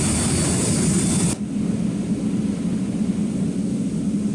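An interceptor jet launching in the naval combat game Sea Power, a loud rushing jet roar that cuts off abruptly after about a second, leaving a lower steady engine rumble.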